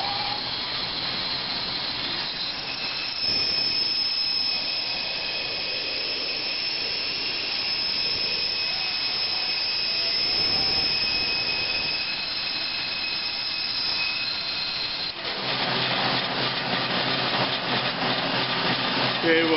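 Power saw cutting small wood pieces for a handmade marble puzzle, a loud continuous whining roar lasting the whole stretch with a brief change near the end.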